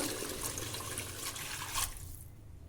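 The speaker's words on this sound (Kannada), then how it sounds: "ನೀರು ಹಾಕ್ತೀನಿ" A steady splashing stream of water pours into a pot of fish curry, close and continuous, then cuts off abruptly near the end.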